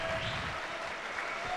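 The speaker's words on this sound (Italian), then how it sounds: "Un grande applauso!" Applause at a Venator FC mixed martial arts fight event in Italy, a steady wash of clapping from the arena crowd that persists throughout, moderately loud with no clear speech over it.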